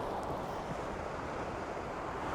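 Ocean waves washing onto a local shoreline, a continuous broad rush of surf blended with wind buffeting the microphone, steady and fairly loud throughout.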